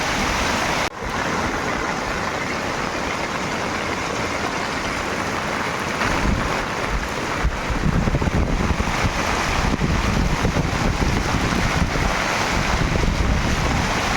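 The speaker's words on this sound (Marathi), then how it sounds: "खूप खूप भरपूर पाऊस पडतो आहे" A steady, dense hiss of heavy monsoon rain pouring down nonstop in Konkan, broadband and moderately loud, growing slightly heavier partway through.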